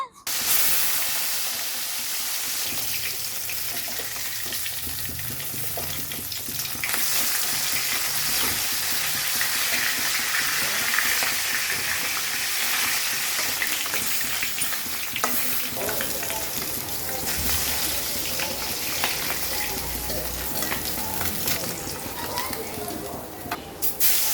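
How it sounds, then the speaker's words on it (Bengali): Fish pieces rubbed with turmeric and salt fry in hot oil, giving a long, steady sizzle with bursts of spitting and crackling that swell and ease as the pieces are moved around. "এখন মাছগুলো আগে ভেজে নেই"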